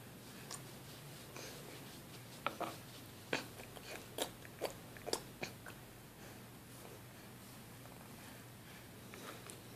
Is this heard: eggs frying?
no